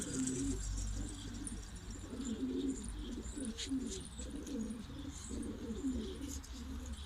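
Several pigeons coo steadily in a loft, repeated low rolling calls one after another, close and clear over a constant low background hum, with faint chirps higher up; Şanlıurfa filo pigeons.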